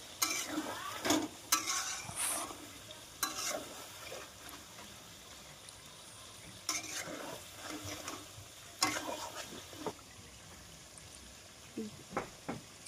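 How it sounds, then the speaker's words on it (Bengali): Chicken is stirred with salt in a kadai through a run of scraping, clattering strokes over a low sizzle, with short quiet pauses between the stirs. "লবণটা দিয়ে ভালোভাবে মিশিয়ে নিয়ে"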